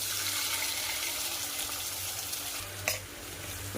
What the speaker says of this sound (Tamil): கேரட் பீன்ஸை நல்லா கலந்து விட்டுக்கலாம்.